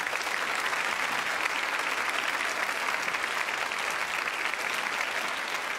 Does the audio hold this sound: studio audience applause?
yes